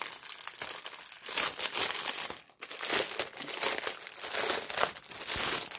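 A resealable plastic bag crinkles and rustles up close in repeated handling bursts, loud crisp crackles with a brief pause midway, and no voices.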